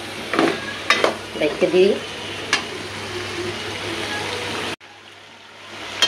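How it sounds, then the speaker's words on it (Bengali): Hyacinth beans and potatoes sauté in a pan with a steady close sizzle and stirring scrapes, someone speaking briefly over it before the sound cuts to quieter frying. "এই দেখেন আমার কত সুন্দর করে সবজিটা কষানো হয়ে যেতেছে"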